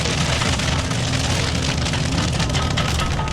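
Dense, crackling patter of rain on hard surfaces, popping like popcorn, loud and unbroken, captured close on a small action camera's internal microphone.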